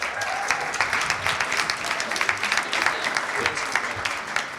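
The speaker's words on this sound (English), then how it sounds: "Give him a round of applause, please." An audience at a B2B sales event applauds a company founder taking the stage, a continuous, fairly close patter of many hands for several seconds with faint crowd noise.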